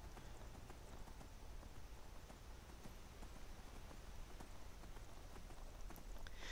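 Horse hooves pound out a fast, continuous clip-clop rhythm while riding in the Skyrim video game, steady and moderately loud with no talking over it.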